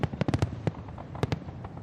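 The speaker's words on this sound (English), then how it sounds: "The fireworks is just spectacular" Fireworks explode at a Fourth of July show in a rapid cluster of sharp bangs, followed by scattered single blasts and a louder pair later, heard at a distance with no talking.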